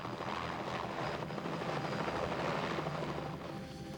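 A helicopter flies over the Gulf of St. Lawrence ice floes, its rotor and engine a steady, loud, thrumming roar throughout.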